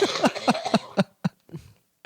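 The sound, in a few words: dry cough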